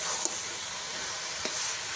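A thickening palm and grated coconut filling cooking down in a pan, a soft steady hiss with two faint scrape ticks, fairly quiet and without speech.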